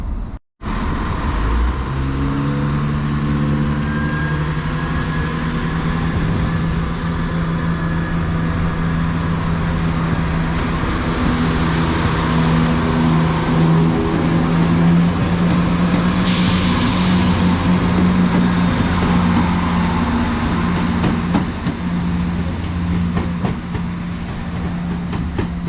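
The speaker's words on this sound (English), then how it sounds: "there's a plane taking off right over there as well at the very same time" Train passing at a platform in Aberdeenshire with a plane taking off at the same time: a loud sustained rumble and droning engine tones, steady throughout with a whining rise partway through.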